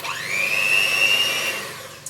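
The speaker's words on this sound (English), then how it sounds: "I use this little hand whisk, which would help if I had the plug on" An electric hand whisk whirs in a bowl of mashed potatoes, its motor spinning up quickly into a steady, fairly loud high-pitched whine that holds for about two seconds before cutting off, with no talking.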